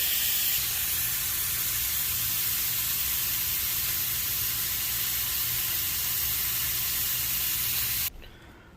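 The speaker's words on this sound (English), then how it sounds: "Now I'm going to go ahead and lightly flip these around a little bit in the butter and pull them out as well" Ribeye steaks in butter sizzle loudly in a pan, a dense continuous hiss held close and steady for most of the time before it drops away sharply near the end; no talking.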